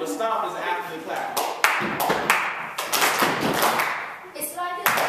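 Claps and stomps in a call-and-response rhythm game, sharp hand claps and low thuds repeating in an uneven pattern close by, with a voice talking over much of it.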